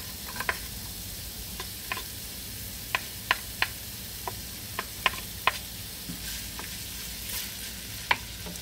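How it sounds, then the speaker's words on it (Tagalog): Ginger sautéing in olive oil in a pan that is not yet very hot, a soft, steady sizzle with scattered sharp ticks and clicks from stirring, heard up close with no talk. "igigisa ko na po ang luya"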